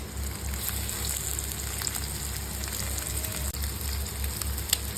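Pachu fish fries in a pan with a constant crackling sizzle like light rain, steady and close, with a low hum underneath and no one speaking.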